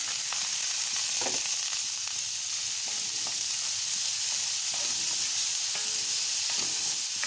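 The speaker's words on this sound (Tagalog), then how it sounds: "I-fry natin ng maayos ang onion guys" Chopped onion fries in a pan with a steady, dense sizzle that holds throughout, with faint stirring scrapes and clicks mixed in. There is no voice over it.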